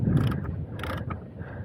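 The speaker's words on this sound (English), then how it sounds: "So now, I guess I'll just hit it with the wrench." A wrench works on a motorcycle chain adjuster, giving a quick run of close metallic ratcheting clicks and mechanical clatter with no voices.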